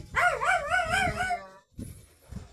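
A dog gives a drawn-out, wavering howl-like bark up close, followed by a few shorter, fainter yelps.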